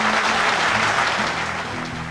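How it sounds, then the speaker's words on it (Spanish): Studio audience on a Spanish-language talk show giving a brief, full round of applause, steady and close, with no one talking. "Fuerte el aplauso para Jorge Chediak."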